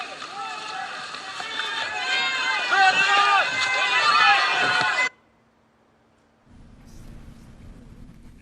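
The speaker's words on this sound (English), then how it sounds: "Sounds like they're yelling medic repeatedly." A crowd of voices yells over and over for a medic, loud and frantic for about five seconds, then cuts off to near silence and a low, steady rumble.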